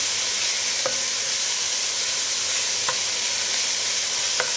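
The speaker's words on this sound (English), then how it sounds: "So all you just need to do is break the mince down and just brown it off" Minced meat browns in a pan over a gas flame set about halfway, giving a steady, close sizzle and frying hiss with a few faint stirring scrapes and no talking.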